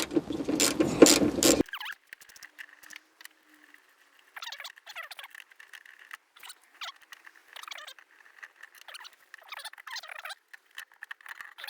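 A BMW door latch and actuator assembly is worked out of its mounting, a burst of loud clattering handling noise followed by a long series of small mechanical clicks, creaks and scraping squeaks, close and intermittent with quiet gaps.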